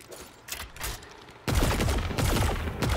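An exotic machine gun in the Destiny 2 video game fires automatic volatile rounds, bursting into a loud rapid stream of shots with crackling impacts after quieter scattered fire at the start.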